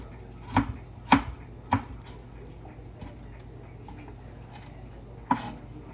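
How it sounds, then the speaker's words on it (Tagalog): Carrots being chopped into small pieces, a few sharp knife knocks on a cutting board in an uneven rhythm, close and clear against a quiet room. "Yung carrots pala, ginaya ko ng maliliit yung carrots."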